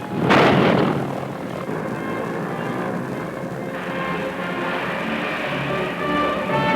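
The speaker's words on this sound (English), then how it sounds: "each thundering run was an epic of suspense until 30 tons of bombs, plane, and men were lifted from the earth" American bombers take off, their propeller engines producing a heavy, droning roar. A sharp burst opens the recording, and the sustained drone builds as the aircraft climb.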